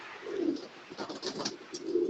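A Rampuri pigeon coos close by in soft, low throaty calls, one early and another at the end, with faint rustling between and no talking.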